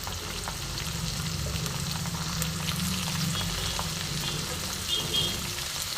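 Chopped onion with a medium tomato frying in a pan for a rohu fish kofta curry, a steady close sizzle with occasional stirring scrapes, continuous and fairly loud with no talking.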